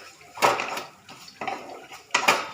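A spoon or spatula stirring a paste of bottle gourd greens with mustard oil in a pan, three separate scraping strokes with short pauses between them, close and fairly soft.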